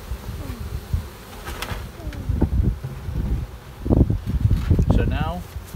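Honey bees from a newly installed package buzz steadily in a hive, a close, continuous droning hum with a wooden knock and rustling handling sounds mixed in.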